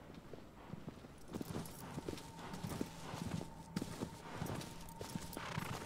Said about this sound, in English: This horse is not making my life easy.